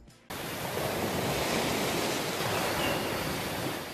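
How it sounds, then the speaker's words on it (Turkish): Steady broadband wash of ocean surf rolls in after a brief quiet start and holds evenly throughout, a continuous wave roar used in a hearing aid advertisement, with no voices. "Dalgaların sesini duymak için deniz kıyısında olmanıza gerek yok. Ada size dalgaların sesini getirir."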